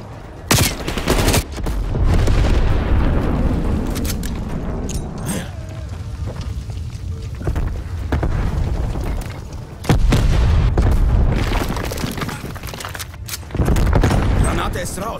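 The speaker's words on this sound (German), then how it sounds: "Napalmangriff im Anflug." Booming napalm strike explosions crash over rapid gunfire in Call of Duty Black Ops Cold War multiplayer. The loud blasts arrive in several waves, and voices speak intermittently.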